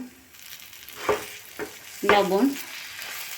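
Red lentil paste frying in mustard oil with turmeric and salt in a frying pan, a faint background sizzle broken by a few short scraping stirs and a brief louder clatter.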